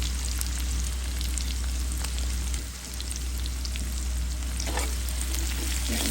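Vegetables frying in a pan with salt and a little turmeric, a steady, even sizzle of hot oil continuing throughout with soft crackles, close by and alone.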